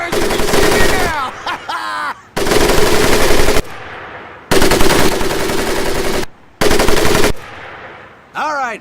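Machine gun fire in a video game, heard as four long, loud bursts with short gaps between them. A voice speaks briefly in the pauses.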